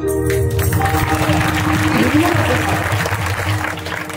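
An audience at a kirtan claps in a loud, continuous round of applause, with a voice talking through it over a low background hum.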